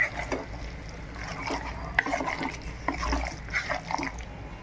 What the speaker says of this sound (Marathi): त्याच्यात गरम पाणी ओतायचं